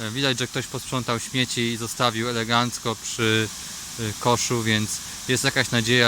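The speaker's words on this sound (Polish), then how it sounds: "którą tutaj pewnie słychać w tle głos tamy" A steady broadband roar of water rushing over a dam at a reservoir in Skierniewice runs continuously in the background while someone talks over it.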